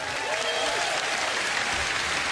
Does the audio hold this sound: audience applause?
yes